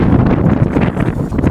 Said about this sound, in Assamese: বতাহ আপোনালোকে চাউণ্ড শুনছি চাগে